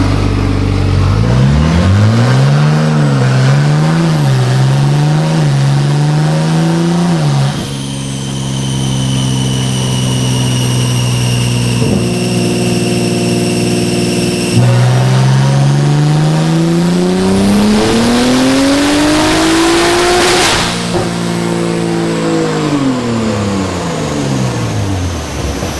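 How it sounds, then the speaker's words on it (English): An 800 whp big-turbo Toyota Supra MK5 revs hard, its engine note climbing and wavering before rising in a long sustained sweep, loud and close with no talk over it. "Your car revved up to 75 on that one."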